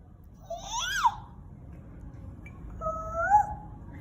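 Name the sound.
child imitating a cuckoo bird call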